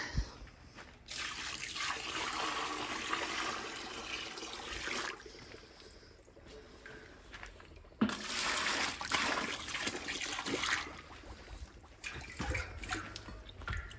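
Lamb footbath solution being stirred into water with a stick, giving sustained splashing and sloshing in two long bursts with brief pauses, close and fairly loud, with no talking.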